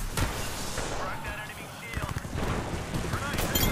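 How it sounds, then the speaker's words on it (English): Grenade blasts in the video game Apex Legends, a dense barrage of repeated booms and thuds piling up close by over a few seconds, with a louder burst near the end. "He's still throwing nades."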